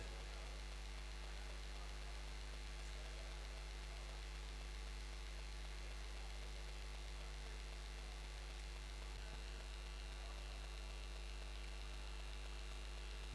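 Ceiling fans running in a hall, a steady low electrical-sounding hum with faint static, constant and quiet, with no voices.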